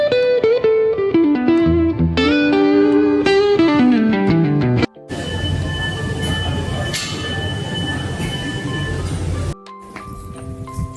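A train at a station in Hamburg at night, heard as loud, close rumbling and rail noise with high squealing tones, following a stretch of steady music.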